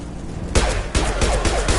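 Close, loud gunfire from Blue Suns mercenaries and Vorcha in the video game Mass Effect 2, with a burst of sharp shots and booming impacts in quick, uneven succession.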